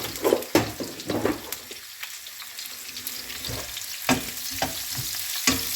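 Sliced onion fries in a pan for a traditional Kerala dish, with loud, uneven scrapes of stirring over a steady sizzle and no talking.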